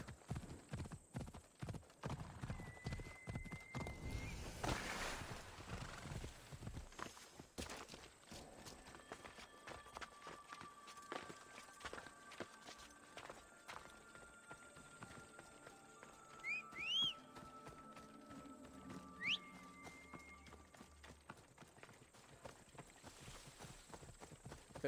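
Horse hooves clip-clop steadily through most of a stretch of Assassin's Creed Odyssey gameplay, a rhythmic trot with a whinny and a few whistle-like tones mixed in, fairly quiet overall and with no talk over it.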